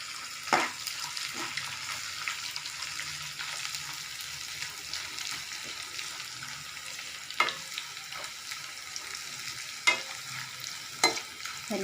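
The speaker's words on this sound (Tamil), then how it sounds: "இது கொஞ்சம் நல்ல ஒரு 2 மினிட்ஸ் வதங்கட்டுங்க." Vegetables for a vegetable kurma sautéing in a pan, a quiet continuous sizzle with occasional light spoon taps against the pan, steady throughout with no talk.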